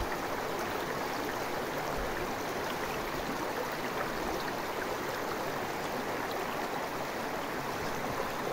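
The Etasuche river flows steadily in a broad, continuous rush of water, close by and unbroken, with no voices over it.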